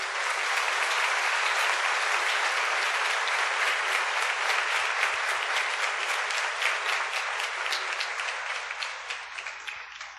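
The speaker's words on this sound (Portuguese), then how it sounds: "Uma salva de palmas para vocês." A church congregation at an evening Mass applauds confirmation candidates. Sustained, fairly loud clapping fills the space, growing slightly more rhythmic and uneven before it slowly fades toward the end.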